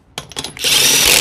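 A cordless impact wrench loosens truck lug nuts in a quick burst of short hammering pulses, then runs into one loud, steady, continuous rattle, close up.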